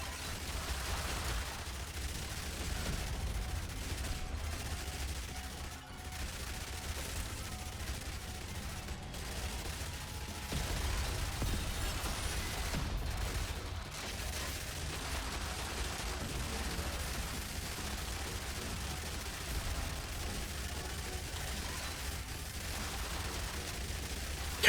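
An automated turret in the zombie survival game Yet Another Zombie Survivors fires a long, continuous stream of rapid shots, dense and steady, layered with game noise and brief gaps.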